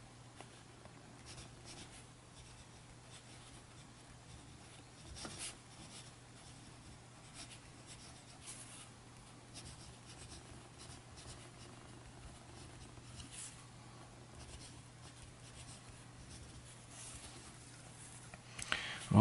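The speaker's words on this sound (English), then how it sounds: "So let's see how the pen writes." A Kaweco Dia 2 fountain pen with a fine steel nib writes on paper, giving a faint, steady scratching that runs on and on with small pauses and shifts in pressure, close and alone, with a slightly louder stroke near the end.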